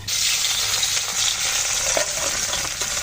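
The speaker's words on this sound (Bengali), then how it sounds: "বাবা তেলটা সুন্দর গরম হয়ে গেছে, আমি এখন এই হলুদ লবণ মেখে রাখা মাছ দিয়ে দিচ্ছি।" Rohu fish pieces marinated in turmeric and salt go into hot oil, setting off a loud, continuous close-up sizzle with faint crackling and a soft clink or two underneath.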